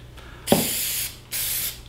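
Spray finish hisses onto the end grain of scroll-sawn wood in two close, steady bursts of about three-quarters of a second each, separated by a short pause.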